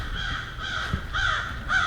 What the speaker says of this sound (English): Oh yeah, you crow.